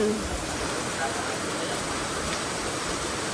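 Steady, dense downpour with a constant broadband hiss and no pauses, heavy rain pounding nearby surfaces.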